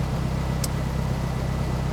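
A turbocharged Honda S2000 engine idles steadily and smoothly, a continuous low rumble with no talk over it and one brief high hiss partway through.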